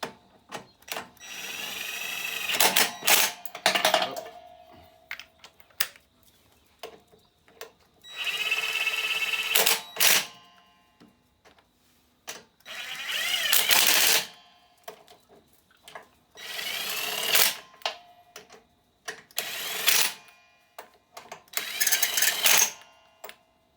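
An impact wrench turned down to low power drives a bolt on a self-propelled Briggs-powered Masport lawn mower, firing in five or six short rattling bursts of a second or two each, close, separated by quiet pauses.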